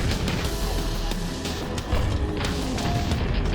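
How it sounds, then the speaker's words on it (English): Heavy, continuous booming grenade-launcher blasts with crashing debris, loud and close, layered like rapid explosions in a chaotic battle in the video game Quake. "Watch those close quarters explosions."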